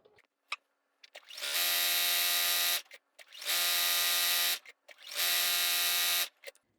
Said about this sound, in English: we're just going to sew the entire length